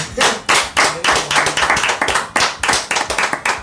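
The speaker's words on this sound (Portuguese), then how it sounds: "vou pedir uma salva de palmas nesse estúdio para os nossos convidados" Studio audience clapping for guests on a Brazilian talk show, a few separate bursts of hand claps at first, then a quicker, denser run of nearby claps with no talking.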